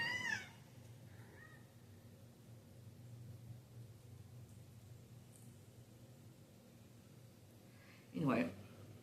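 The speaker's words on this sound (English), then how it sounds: "so she's not like constantly meowing" A cat meows twice, once at the start and again louder near the end, with quiet room noise in between.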